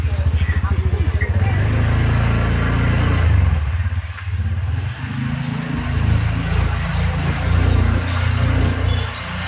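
Scooter ride along a road past large Saraswati idols, with a steady mid-pitched engine drone and road rumble throughout, close and continuous, a brief dip partway through.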